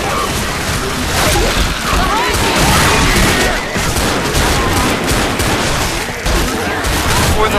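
Dense, rapid gunfire fills a Left 4 Dead co-op match on advanced difficulty, loud overlapping bursts and crashes running continuously throughout.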